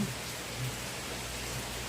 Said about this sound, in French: Fait que je vais continuer à écouter la pluie tomber.